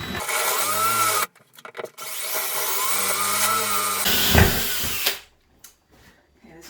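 A power drill bores slowly into a bathroom wall through plasterboard, whining steadily in two bursts separated by a short pause, then stopping abruptly.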